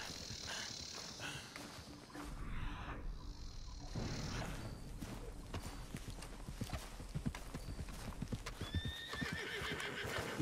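Wild horses in Red Dead Redemption 2 trot with a steady clip-clop of hooves and let out a whinny, set against a dense, continuous bed of game ambience and background noise.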